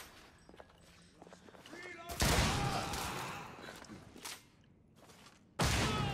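Shotgun blasts fired in the video game The Order: 1886: two loud, close booms, each followed by a decaying roar. Softer clatter and movement sounds fill the stretches before and between the shots.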